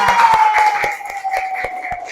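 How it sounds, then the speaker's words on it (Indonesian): A classroom of students claps in a short burst of sharp, evenly spaced rhythmic hand claps, close and loud, with children's voices sustained underneath. "tepuk tangan buat kita semua"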